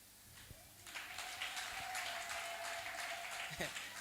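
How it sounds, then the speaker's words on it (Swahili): A church congregation breaks into clapping during a sermon, a burst of applause that rises after a sharp knock, holds steady for a few seconds and then cuts off, with a voice faintly present. "Hayo makofi ni ya kumpa Yesu kweli."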